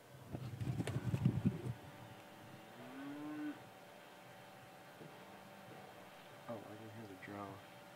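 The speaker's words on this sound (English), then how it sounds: "We have happy cows in Kansas." Cows moo a few times at a distance in Kansas, a low drawn-out call followed later by shorter ones, over faint background hum with some brief handling noise.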